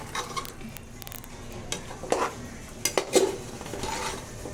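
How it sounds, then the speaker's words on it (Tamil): A spoon stirs a tomato and curd mixture in a cooking pan, soft scraping with a few sharp metallic clinks against the pan over a faint sizzle. "நல்லா திருப்பி விடணும் இதை."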